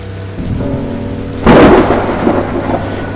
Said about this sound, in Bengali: তখনও বৃষ্টি পড়ছে